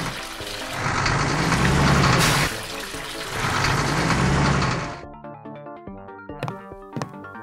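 Water tanker truck driving on a street, a broad rushing engine and road noise that swells twice and fades, followed by a quieter stretch with music and a few sharp knocks.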